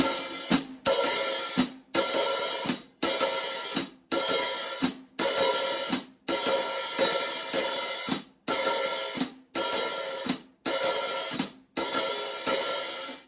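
Brisk, repeating swing cymbal pattern with the hi-hat opening on the skip beat into a sloshy wash and snapping shut, about once a second in a steady swing feel.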